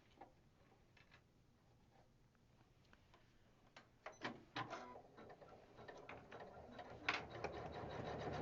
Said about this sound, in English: this is going to do the satin stitch